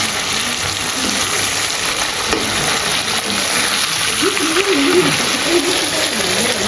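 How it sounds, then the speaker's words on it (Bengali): Fish pieces drop into hot oil and set off a loud, dense, continuous sizzle close up, with a faint voice in the background. "তখন আমি তেলটাতে মাছগুলো সব ছেড়ে দিলাম"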